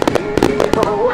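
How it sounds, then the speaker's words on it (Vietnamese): A summer fireworks display in Japan, with several sharp bursts and crackles in quick succession, loud and close, while a voice talks over them. "Có bao giờ mà bạn được xem pháo bông bắn đến tận hơn một tiếng đồng hồ không?"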